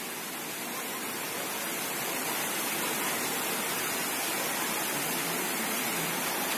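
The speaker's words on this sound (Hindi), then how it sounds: "ये झरना उधर से आ रहा है" A mountain waterfall where pilgrims bathe on a Himalayan route between Gangotri and Kedarnath roars loud and unbroken, a dense continuous rush of falling water close by.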